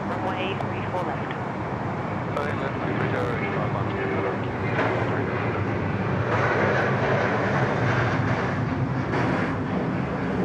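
A departing airliner lines up and rolls for takeoff from runway 34 left at Sydney Airport, a steady broad engine roar building under continuous talk and air traffic radio chatter.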